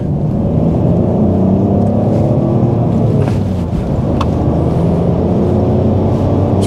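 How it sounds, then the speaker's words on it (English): A car engine runs steadily nearby with a low, smooth rumble and a muted exhaust note, holding an even idle without revving. "it sounds very quiet compared to Husley with his almost straight through exhaust"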